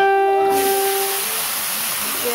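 Sliced onions and turmeric sizzle in hot oil in a home kitchen, a steady broadband frying hiss that starts abruptly and holds loud and close throughout, with a faint tonal ring fading early on.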